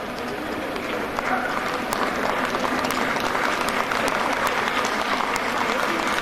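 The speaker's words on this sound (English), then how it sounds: "I request all the parents and guests to give a huge round of applause" An audience of parents and guests at a school's 56th annual day celebration gives sustained applause, a dense even clapping that holds steady throughout, with faint crowd voices mixed in.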